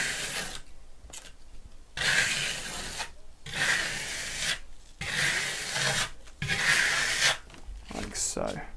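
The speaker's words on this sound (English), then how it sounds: "Always remembering to stick to those fan-like motions and keeping the trowel angle between that 20 and 30 degree point." Steel trowel spreading a Venetian plaster top coat in fan-like sweeps, giving four or five distinct scraping passes, each about a second long, separated by short pauses, close and clear.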